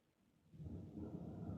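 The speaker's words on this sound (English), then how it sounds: "a lightning strike." Thunder follows a lightning strike during a severe Oklahoma storm, a low rolling rumble that swells in after a quiet moment and holds, distant but building.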